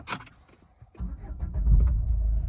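Renault Clio 4 from 2016 cranking over and settling into a steady idle, a short starter whir giving way to a deep, even low rumble that builds and holds close by, with a faint jingle of keys at the start.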